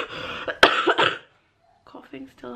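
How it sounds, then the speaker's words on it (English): A sharp cough bursts out near the start, surrounded by nearby voices and household chatter, from a parent with a sore chest getting two young children ready for school. "Coughing still hurts"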